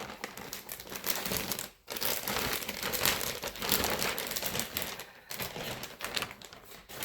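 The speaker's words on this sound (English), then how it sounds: "So it's coming in a beautiful plastic bag." Continuous crinkling and rustling of a Louis Vuitton delivery's plastic bag being handled up close, loud and busy with a couple of brief pauses.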